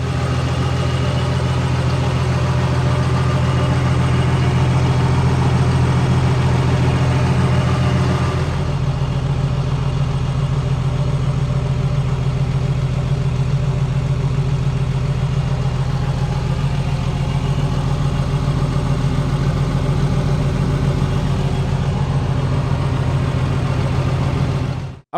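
A Cat D6N dozer fitted with a custom rear skidder grapple idles steadily nearby, a deep continuous diesel rumble with a low hum that shifts slightly in tone partway through and holds for the rest.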